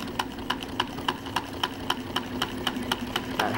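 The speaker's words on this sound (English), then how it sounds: "So it's just chugging along at a real slow speed." Wiggers Stirling engine running at slow speed, sharp regular ticking knocks about three per second over a faint mechanical hum, close and alone with no voices.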